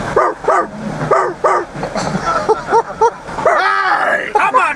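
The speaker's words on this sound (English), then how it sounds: "Somebody shut that dog up!" A dog barks in a quick run of sharp yips, several in a row with short pauses, close by, with a whiny, yelping edge and a voice in between.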